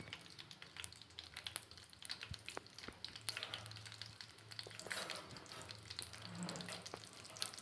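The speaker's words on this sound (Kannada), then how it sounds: "ಹಂಗೆ ಎಣ್ಣೆಯಲ್ಲಿ ಚೆನ್ನಾಗಿ ರೋಸ್ಟ್ ಆಗಬೇಕು" Peanuts roasting in hot oil for lemon chitranna, a steady faint crackling sizzle with scattered sharp pops and light stirring clicks, no talking.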